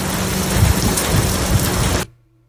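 A storm brings pouring rain and thunder, heard as a dense, loud hiss with low rumbling bursts. It cuts off abruptly to near silence after two seconds.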